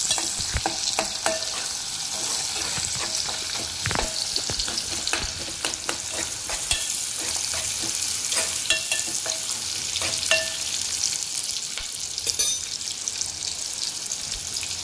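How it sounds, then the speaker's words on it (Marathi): Chopped onion fries in hot oil, a steady close sizzle with crackling pops and occasional stirring scrapes throughout, no voices. "आता आपण हा 1 कांदा याच्यामध्ये घालूया, तेलामध्ये घालूया."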